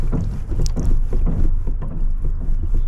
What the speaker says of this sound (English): I can hear the Skeg moving